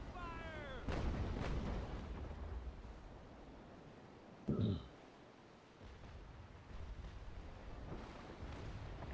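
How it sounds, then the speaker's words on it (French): Heavy cannon fire from a fort in a naval battle game, a deep booming blast midway, with distant rumbling shots and wind-like ambience around it; a voice speaks briefly near the start. "le fort me tire déjà dessus"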